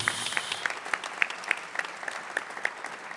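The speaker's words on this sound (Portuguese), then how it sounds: "Aplaudamos a palavra de Deus." A church congregation applauds together after a Mass gospel reading, a steady rhythmic clapping heard at a moderate distance, with a regular beat running through the crowd noise.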